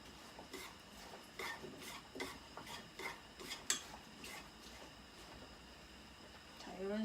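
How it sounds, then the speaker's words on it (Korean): Prepared vegetables are stir-fried in a spoonful of cooking oil, with quiet rhythmic scraping strokes of a utensil against the pan repeating about twice a second over a faint background hiss. "아까 손질한 야채를 살짝 식용유 1스푼 두른 다음에 여기에 하나하나 볶아줄 거예요"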